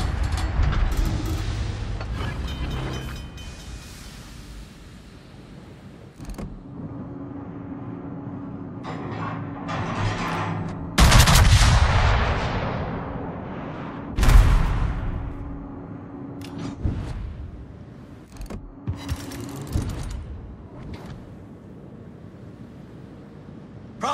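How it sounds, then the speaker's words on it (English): Battleship Wisconsin's naval guns fire in World of Warships, sounding as several heavy booming blasts spread over a low rumbling background, the loudest shots near the middle, with no voices. "Concentrate fire on the enemy warship."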